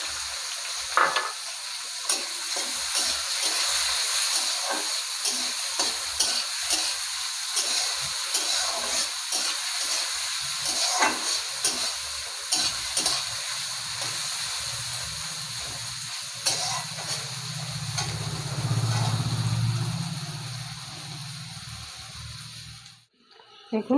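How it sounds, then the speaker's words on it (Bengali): Chopped onions fry in a pan of oil for a fish-head and pui shak dish. A steady sizzle hisses throughout, with intermittent stirring scrapes and clatters and a quieter murmur near the end before the sound stops abruptly. "দেখুন পেঁয়াজটা খুব সুন্দর ভাজা হয়ে গেছে"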